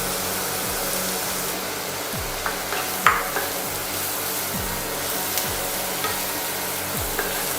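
Mushrooms sautéing in a pan, a steady close sizzle and hiss with a few soft stirring clinks throughout, no voices.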